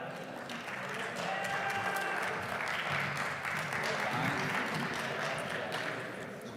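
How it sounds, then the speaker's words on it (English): Steady applause fills a Cardano crypto conference hall as a team walks onto stage, dense and moderately distant, with faint voices beneath it. "Give them a round of applause."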